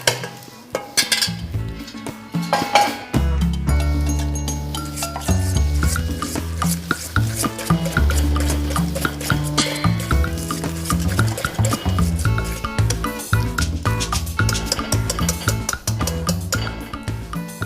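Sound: adding hot ingredient and stirring the hibeş mixture

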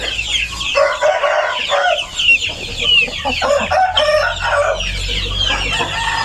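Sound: chickens clucking and crowing on farm

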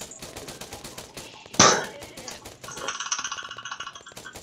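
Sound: gunfire in a video game police operation

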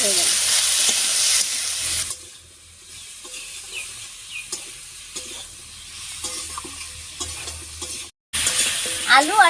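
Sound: potatoes with salt and turmeric stirred and frying in pan

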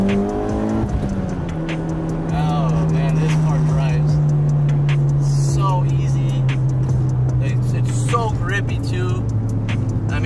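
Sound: Mitsubishi Evo X driving, H-pattern gearbox downshifting

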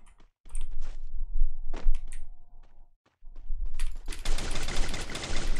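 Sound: FAMAS rifle gunfire in the video game Free Fire

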